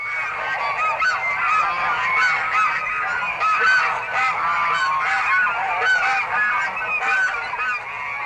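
A large flock of Canada geese honks continuously, a dense chorus of overlapping calls from many birds that stays loud and steady throughout.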